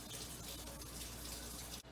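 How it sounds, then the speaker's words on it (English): Hot water runs steadily from a kitchen tap to warm canning jars, a loud continuous gush that cuts off near the end. "I'm running hot water to get my jars hot."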